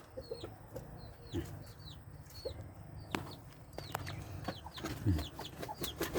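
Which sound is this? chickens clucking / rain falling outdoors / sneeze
chickens clucking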